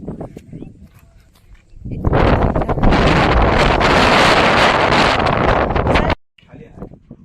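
Strong wind buffets the microphone in a loud, roaring burst lasting several seconds atop a hill fort, with quieter outdoor ambience and faint voices before and after.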